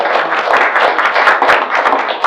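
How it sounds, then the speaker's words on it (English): Audience applause for guest speaker Governor Michael Dukakis at a breakfast gathering: steady, dense clapping from a room full of people, sustained for a couple of seconds with no voices over it. "So let's have a round of applause."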